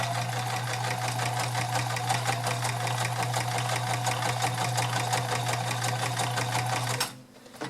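Vintage Kenmore 1560 convertible free-arm sewing machine stitching through five layers of thick denim: a fast, steady mechanical whir with rapid rhythmic needle clatter, close and continuous for about seven seconds before stopping abruptly.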